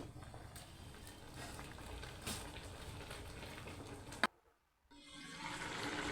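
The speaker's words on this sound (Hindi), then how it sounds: "देखें अच्छे से पक रहा है, पानी बॉयल हो रहा है।" Pot of mustard greens for Punjabi sarson ka saag bubbling at a rolling boil, a continuous hissing, gurgling wash that cuts out abruptly, leaves a moment of near silence, then resumes.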